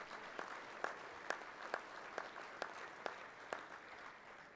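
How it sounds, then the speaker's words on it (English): An audience claps in steady applause at a sports hall of fame banquet, with sharp, regularly spaced claps standing out from the dense crowd clapping throughout. "Please give him a round of applause."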